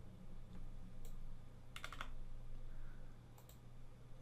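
Computer keyboard shortcut presses, a few quick clustered key clicks and a short burst of taps against a steady room hum, close and fairly faint, no talking.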